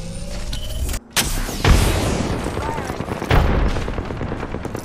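Heavy gunfire and booming blasts in a video game battle, loud and dense, with a sudden cut of silence followed by renewed firing and rumbling explosions.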